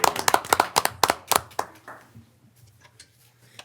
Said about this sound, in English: You can give her a clap.